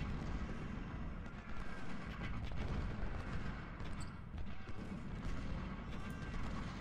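Dense, continuous Civil War artillery fire from 12-pounder cannons in a battle game, with overlapping booms and rumbling blasts rolling without pause at high volume, no voices.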